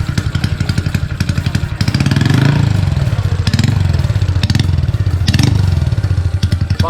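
A Honda Wave 110i motorcycle engine idles with a rough, clattering rhythm, then revs up loudly in several bursts before settling back, close and loud.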